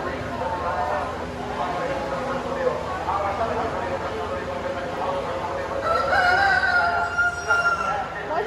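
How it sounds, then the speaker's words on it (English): A rooster crows among the poultry pens at a county fair, its rising call standing out near the end over steady crowd noise and people talking nearby. "Rooster. I love roosters."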